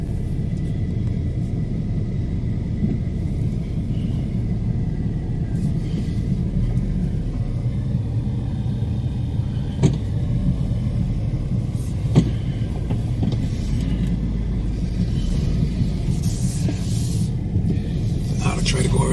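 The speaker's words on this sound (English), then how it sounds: "Traffic gets real tight around here sometimes." Street traffic in Philipsburg, St Maarten, heard from inside a slowly moving vehicle: a constant low engine rumble with passing cars and occasional sharp knocks, while someone talks throughout.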